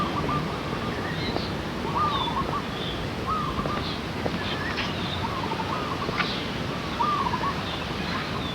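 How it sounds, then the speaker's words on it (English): A flock of birds calling repeatedly, with short, harsh, rising calls at fairly regular intervals over a constant outdoor background hum. The calls sound at moderate distance. "Ooh, look at that ugly bird."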